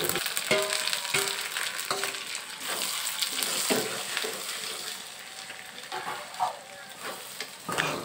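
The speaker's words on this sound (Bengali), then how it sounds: "আমি খুন্তির সাহায্যে কিছুক্ষণ এটা নেড়ে নেব" A spatula scrapes and turns chicken khichuri with lentils, fried onions and potato in a sizzling pot, with repeated close scraping strokes over a continuous frying hiss.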